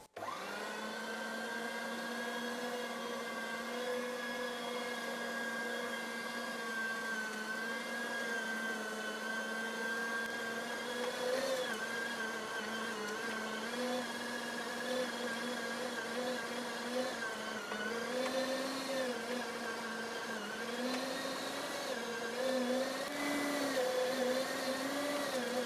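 Electric meat grinder forcing chilled pork and beef through its plates, a steady loud motor whine with a strained, wavering pitch that runs without pause for the whole stretch, alone with no talk.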